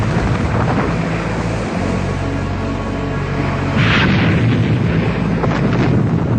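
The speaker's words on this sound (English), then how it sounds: "We opened fire with the 15-inch guns." Heavy 15-inch naval guns aboard a WWII battleship firing in action, heard as a continuous loud rumble with a sharper blast burst near the middle, dense low booming throughout and no talk.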